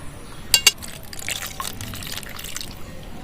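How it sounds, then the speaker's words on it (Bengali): Ripe mangoes being rinsed in water, with soft splashing and trickling, two sharp dripping clicks near the start, then steady low watery movement close by. "এবার পাকা আমগুলো ভালো করে জল দিয়ে ধুয়ে নেব"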